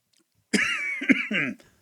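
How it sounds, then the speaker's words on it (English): A single close cough from a person with a cold, followed by a short throaty rasp like clearing the throat, in a quiet room. "that's coughing"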